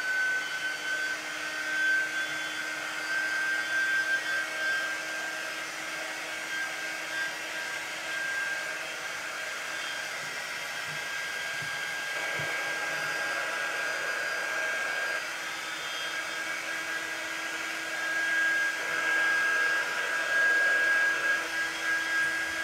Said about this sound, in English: let me get my heat gun and see if we can assist it to move along a little quicker